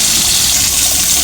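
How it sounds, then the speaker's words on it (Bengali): Fish frying in hot oil in a wok sends up a steady, loud, close hiss of sizzling with no pauses and no talk. "মাছটা দিয়ে দিচ্ছি। মাছটা ভাজা হোক"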